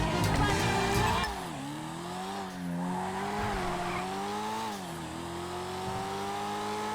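A car drives in the video game GTA V. Its engine tone climbs and drops with shifting revs, with a brief tire squeal near the start and a steady hum through the rest, partly under talk.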